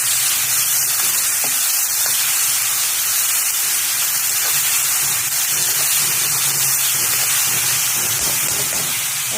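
Rice frying in a pan with cashews, peanuts, a pinch of turmeric and garam masala for tomato fried rice, a close, continuous bright sizzle and hiss with faint stirring clatter underneath.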